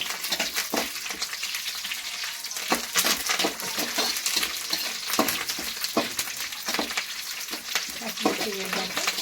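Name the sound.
green chilies frying and being stirred in the pan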